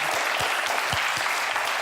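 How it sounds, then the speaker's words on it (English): Brief burst of dense, steady crowd applause from a lecture audience welcoming a speaker on hypnosis. "I'm going to ask for a big round of applause for Head Hacking's Kev Sheldrake."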